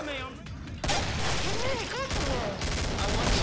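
Shotgun blasts in the zombie shooter Killing Floor, fired in close succession as dense, loud bursts layered with other game noise and someone talking over the action.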